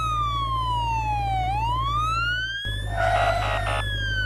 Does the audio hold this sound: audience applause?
no